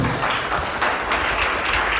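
A church congregation claps and applauds steadily, a dense continuous wash of clapping throughout.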